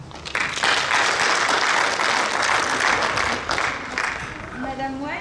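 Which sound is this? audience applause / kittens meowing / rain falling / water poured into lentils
audience applause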